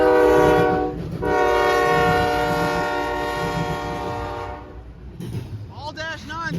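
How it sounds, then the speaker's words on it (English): A freight train blasts its horn nearby at a grade crossing in Erlanger, Kentucky, giving a loud sustained chord, a short break, then a long second blast. The horn fades into rumbling wheels and clatter as a voice speaks faintly underneath. "I'll probably be the only train I get to see today"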